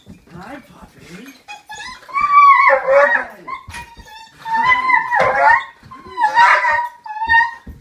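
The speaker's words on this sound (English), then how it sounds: "Let's see how our dog Mystic reacts." A pet dog named Mystic greets its returning owner with high, wavering whimpers and yelps rising and falling in several excited bursts, close and loud, with people talking in between.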